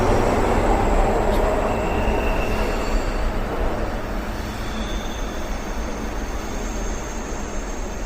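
A metro train runs with a loud, continuous rumble and rushing wheel noise, and faint high squeals ride on top as the sound eases slightly over time.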